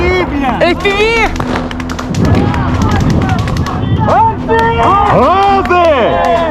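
A grenade dropped from an FPV drone explodes during combat near Avdiivka, heard as loud, dense blasts and rumbling over shouting voices at close range.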